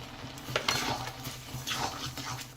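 A spoon stirs sugar into carrot halwa in a pan with milk powder, producing soft scraping and a few light clinks against the metal, close and fairly quiet.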